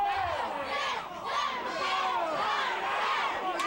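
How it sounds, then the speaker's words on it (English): A 1997 pro wrestling crowd chants in unison, loud rhythmic shouted counts rising and falling from a packed audience, with scattered yells and children's voices mixed in. "Crowd counting along."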